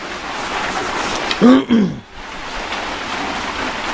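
Rain falling outside gives a steady, soft hiss throughout, briefly interrupted by a short vocal sound.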